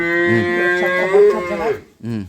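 A dairy cow moos loudly and close by at a rural home, one long drawn-out low call that fades off, followed by the start of a second moo.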